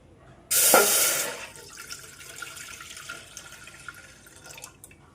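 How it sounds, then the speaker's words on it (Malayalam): A short gush of milk pouring into a pan over a lit gas flame, loud for about a second, then fading into quiet bubbling and faint dripping. "ഗ്യാസ് കത്തിച്ചിട്ടുണ്ട് നമുക്ക് പാൽ ഒഴിക്കാം"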